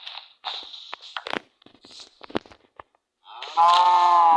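Sparse clicks and small noises, then a loud, sustained cow moo near the end, in the video game Minecraft.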